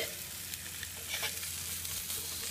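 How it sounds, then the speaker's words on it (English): Meat frying in butter in a pan gives a steady close sizzle with crackling pops throughout, with no talking. "Listen to that meat fry."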